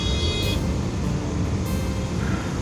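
Busy road traffic rumbles steadily and loudly at close range, with a short car horn toot rising over the engine noise near the start and again midway.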